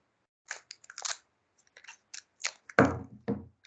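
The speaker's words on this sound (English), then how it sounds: "I'm just going to cut around and add" Scissors cutting around a paper letter for a handmade zine, a series of small crisp snips and crunches, close and isolated, ending with a couple of louder cuts.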